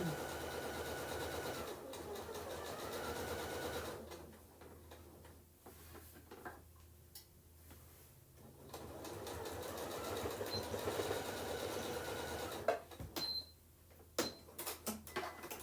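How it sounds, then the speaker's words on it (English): A sewing machine back stitching a candy corn colored placemat whirs steadily at moderate loudness, pauses in the middle, then resumes with a few sharp clicks near the end. "A little back stitching."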